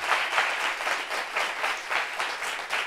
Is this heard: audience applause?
yes